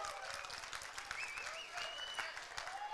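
A crowd applauds and cheers for competing butchers at a butcher competition finale, steady clapping with whoops and shouts, somewhat distant and uniform throughout.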